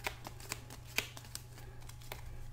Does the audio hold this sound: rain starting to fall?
no